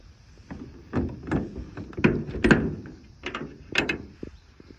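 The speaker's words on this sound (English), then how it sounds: "The back doors are easily shut one-handed to make it easy to come in and out of the trailer as needed." Double back doors of a refrigerated rental trailer being swung and shut one-handed, giving a run of close, moderately loud thumps and latch clunks spread irregularly over a few seconds, with no voices.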